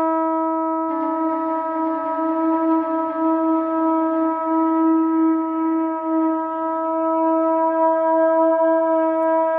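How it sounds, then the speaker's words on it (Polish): A sustained flugelhorn drone processed through looper, delay and reverb holds one steady pitch with rich overtones, joined by faint shimmering repeats after the first second, fairly loud and alone. "Burdon przechodzący przez te wszystkie efekty"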